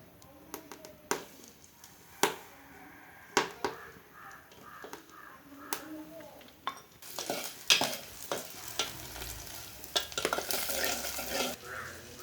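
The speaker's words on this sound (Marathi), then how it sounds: "आता मी तेल ओतलं, टोप तापलो. आता मी मिरसांग टाकतोय आणि लसूण टाकतलं." Chili and garlic hit hot oil in a heated pot, sizzling steadily while a utensil scrapes and knocks against the metal in irregular clanks, with the frying growing louder and denser toward the end.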